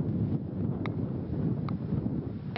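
Strong tramuntana wind on Menorca during an orange alert for wind and rough seas, a steady, loud roar buffeting the microphone throughout with gusty swells and no voices.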